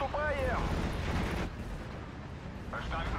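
An artillery strike in the Steel Division: Normandy 44 war game, a deep rumbling boom at the start followed by a fading roll and a second, smaller burst near the end, heard with voices around it.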